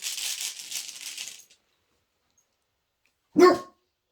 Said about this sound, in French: Donc là j'ai mon chien qui commence à aboyer